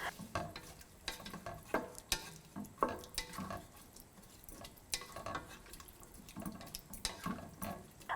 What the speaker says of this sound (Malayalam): ഇതിലോട്ടിനി 1 കപ്പ് വെള്ളം കൂടി ആഡ് ചെയ്ത് നന്നായിട്ട് മിക്സ് ചെയ്തതിന് ശേഷം